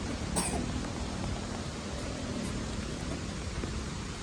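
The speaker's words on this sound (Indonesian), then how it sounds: "Hujan, teman-teman." Steady rain falls on an outdoor traditional village as a broad, even hiss, with a brief clatter near the start and no talking.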